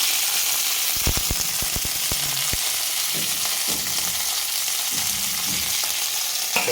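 Ivy gourd curry frying in hot oil with chili spice gives a steady, loud sizzle throughout, with a few quick clinks of a utensil against the pan early on and some soft stirring scrapes after.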